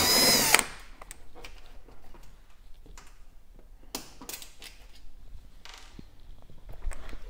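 A power screwdriver backs a screw out of the rear panel of a fan oven, giving a short loud whir at the start, then quieter clicks and handling noises close by.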